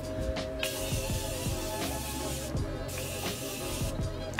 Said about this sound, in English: we're going to add some setting spray.